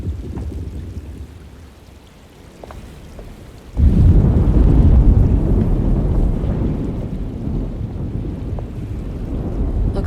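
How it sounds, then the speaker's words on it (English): Thunderstorm ambience in the video game Alone in the Dark: a steady wash of rain and low rumbling swells sharply a few seconds in, then holds as a loud, continuous storm roar with no talking. "Looks like a storm's coming."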